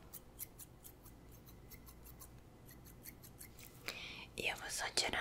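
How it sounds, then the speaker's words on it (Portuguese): Barber's scissors trim a beard in a barbershop, giving a run of close, crisp snipping clicks in steady rhythm before louder rustling and cutting near the end, with soft whispering in the background. "A minha tesoura."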